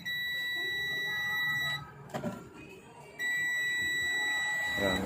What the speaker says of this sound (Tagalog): Yan, may buzzer.